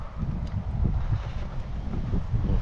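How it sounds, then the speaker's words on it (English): Strong wind blows outdoors at a fishing match, buffeting the microphone with a continuous low rumbling roar and gusty bursts, with no other clear sounds. "now that the weather has just got too windy"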